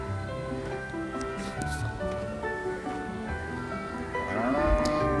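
A cow moos in a children's animal-transformation video game, a steady drawn-out lowing call with harmonic tone over game music, rising slightly louder toward the end.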